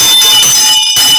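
A bell rings loudly and continuously with a bright, sustained metallic ring, briefly dipping once before resuming, close and harsh with no talking.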